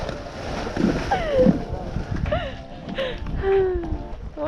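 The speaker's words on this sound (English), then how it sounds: "She just has to stop and dunk her whole head in the water" Outdoors, a horse out on a ride dunks its head in water, making intermittent splashes and sloshing while a person talks in the background.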